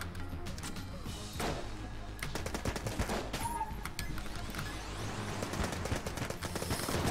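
Rapid, dense gunfire in Enter the Gungeon: overlapping shots and bursts crackle steadily across the clip at close range, with clustered volleys near the middle and end and game effects layered underneath.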